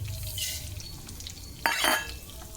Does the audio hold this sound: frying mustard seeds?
yes